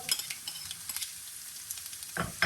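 Mustard seeds, garlic and curry leaves sizzle and crackle in hot oil as they are stirred, with close, bright popping and hissing bursts and a sharper flare of sizzle near the end.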